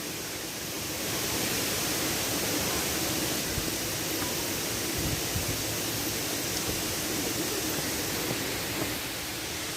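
A waterfall gives off a broad, constant roar of falling water that swells in after the first second and then holds steady and full with no voices.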